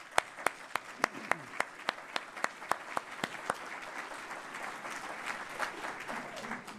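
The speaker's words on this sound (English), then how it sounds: "Let's give them a round of applause." Audience at a school levy community forum breaks into applause, with a few loud, sharp claps standing out near the start before settling into lighter scattered clapping and crowd murmur.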